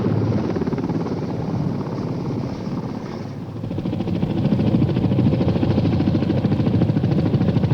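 Vietnam War-era military helicopters lift Marine troops onto a ridgeline. A loud, steady rotor throb and engine roar fill the whole stretch with no voices over it.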